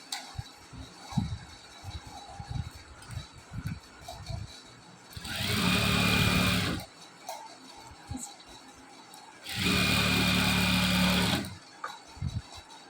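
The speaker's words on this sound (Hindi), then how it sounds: "यहाँ पर सिलाई चला देनी है, चारों पट्टियों पर" A domestic sewing machine runs in two fast, even bursts of about two seconds each, stitching folded fabric sleeve strips, with soft handling taps and rustles between the runs.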